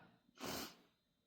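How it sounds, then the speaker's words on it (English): A single short, breathy sniffle, close and fairly soft, then quiet. "I apologize for my sniffles."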